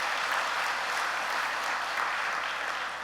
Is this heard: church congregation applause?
yes